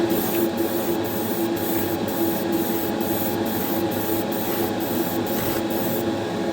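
Clear coat sprays steadily from a can onto a customized Hot Wheels die-cast car in a super light coat. The hiss is close and continuous, with faint rhythmic ticks underneath before it cuts off at the end.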